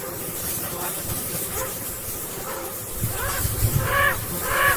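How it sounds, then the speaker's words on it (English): AI-generated outdoor sound of a garden hose spraying with a steady hiss, joined by hoarse bird squawks that grow more prominent toward the end. "it sounds like some old birds with a hangover squawking while a garden hose is spraying nearby"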